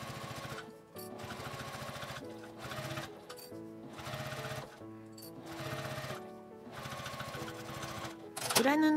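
A sewing machine runs in several steady bursts of rapid stitching along the edge of a zipper, close and fairly quiet, with short pauses between runs.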